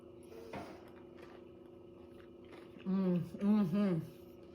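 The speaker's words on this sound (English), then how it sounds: "One more bite." Someone chews a bite of strawberry feta spinach salad up close, soft wet mastication under a humming voice that rises into short vocal sounds near the end.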